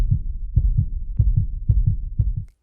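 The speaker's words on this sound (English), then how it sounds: "She could hear his heart beating." Heartbeat sound effect with deep, close, muffled thumps in lub-dub pairs, about five beats at a fast, regular pace, heard alone before stopping abruptly.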